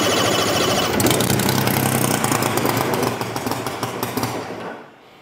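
A KOLM 230cc gas engine on a CARF Strega Reno Racer model airplane runs choked, a loud steady roar with rough throbbing pulses that drops off and fades out near the end.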